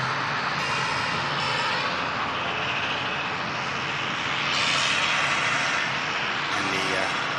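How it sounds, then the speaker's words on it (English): British Airways jet engines spool up at Manchester Airport, a broad, rising roar heard from a distance with a whining hiss that swells midway; a person talks over it. "There's the BA now begins to spool up"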